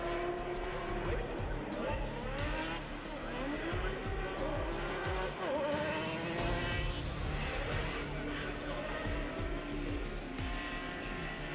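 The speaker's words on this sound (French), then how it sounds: "Cette fois on est avec les moteurs thermiques." Combustion-engine race cars compete in the Trophée Andros ice race at Isola 2000, engines roaring and revving as they pass, with tires skidding and a commentator talking over the racing.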